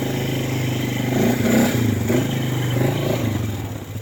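An off-road vehicle engine labouring in low gear over a rough, wet trail with deep holes, a steady loud drone with slight surges in revs and faint rattling, and no talk.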